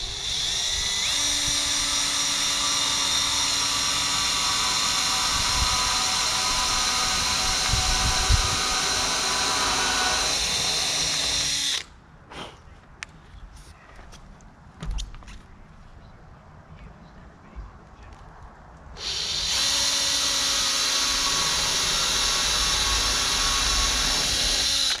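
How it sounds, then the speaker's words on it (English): A high-pitched power drill whines continuously for long stretches while drilling a metal roof, stopping for several seconds of quieter clicks and knocks before starting up again. "So I've been drilling, I'm down here on the ground"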